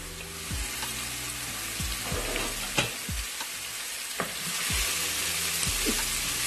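Chopped onions fry in hot oil in a pan, browning lightly for a chicken shorba, with a steady close sizzle and occasional stirring clinks and scrapes throughout.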